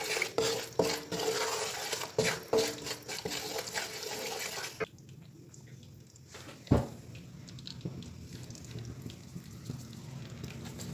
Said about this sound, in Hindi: आटे को ज़रा भुनाई करेंगे कलर चेंज होने तक